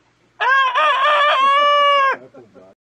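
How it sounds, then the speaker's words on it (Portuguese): A rooster crows once, loud and close, in one long sustained call lasting nearly two seconds, followed by a few softer trailing clucks, with no talk over it. "vocês ouviram o galo cantar"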